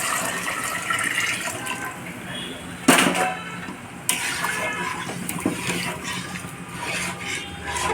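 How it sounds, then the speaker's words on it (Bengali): Water is poured into a cooking pot of dal, a close splashing fill with a sharp burst as the pour starts, over a steady background hiss while a voice talks in the background. "আমি পানি অ্যাড করলাম।"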